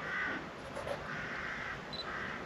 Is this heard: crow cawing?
yes